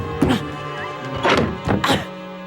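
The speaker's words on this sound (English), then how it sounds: "So you heard the strange thuds too." Heavy thuds sound from an attic in an animated mansion: three or four dull, spaced knocks, fairly close and alone without speech.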